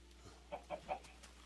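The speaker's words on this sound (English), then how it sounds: "Let's see what the chickens look like." Several soft clucks from Minecraft chickens, three short calls in quick succession at low volume, with a faint game background and no talk.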